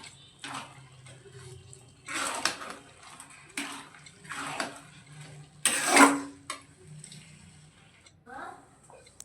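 Water goes into a pot of cooking vegetarian ghugni with a series of close, splashy, rushing bursts. One sharper, louder pour comes midway through.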